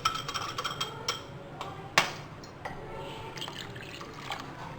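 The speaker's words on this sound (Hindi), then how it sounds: "स्ट्रेनर से मैं इस तरह छान लूँगी ताकि जो मज़ीद और छोटी छोटी गुठलियाँ हैं वो भी जो है निकल जाएं" Liquid for nihari being strained through a kitchen strainer to catch small bits, a steady close wet trickle and dripping with a sharp metallic clink partway through.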